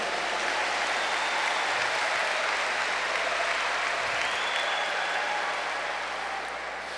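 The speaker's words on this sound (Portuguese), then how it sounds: "E aplauda essa pessoa que está ao seu lado." A church congregation applauds at a worship service, steady crowd clapping that carries on for several seconds before easing off slightly at the end, with a low hum underneath.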